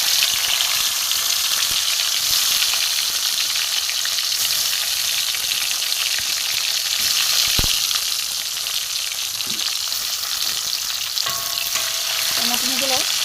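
Chopped tomatoes hiss and sizzle in hot oil already seasoned with bay leaf and whole cumin, a loud continuous frying crackle with occasional scraping as the pan is stirred.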